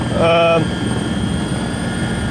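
Helicopter descending toward the landing area at the foot of the Planica ski jumps, a steady loud rotor and engine drone with a high turbine whine, a voice speaking briefly near the start.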